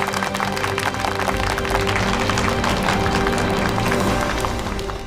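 A large audience applauds steadily and loudly after a wartime political speech in a 1940s-era drama, a dense continuous wash of clapping that holds at full strength and eases only slightly at the end.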